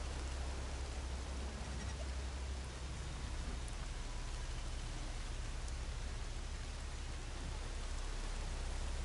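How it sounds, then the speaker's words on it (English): Steady rainfall in the video game Horizon Forbidden West, a dense, even hiss of drops with a low rumble underneath, loud and unbroken throughout. "the rain does help give them away a little bit."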